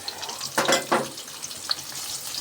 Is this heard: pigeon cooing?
no